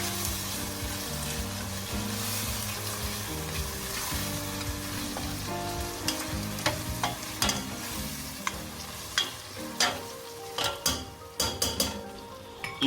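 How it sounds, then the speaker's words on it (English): Ginger and garlic paste stirred into a frying tomato and onion mixture for a rabbit curry, steady sizzling with scraping spoon strokes that grow sharper and more frequent toward the end, alone without talk. "you add in your ginger and garlic paste and mix it"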